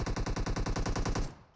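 Rapid automatic gunfire in a battle royale shooter game, a steady burst of about a dozen evenly spaced loud shots that cuts off and fades in the final moments, with no talk.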